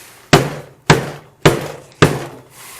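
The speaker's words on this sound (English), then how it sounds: "That's the hammer from Super Smash Bros." Four heavy hammer strikes from the Super Smash Bros. hammer item, evenly spaced about half a second apart, each a loud close thud with a short ringing decay.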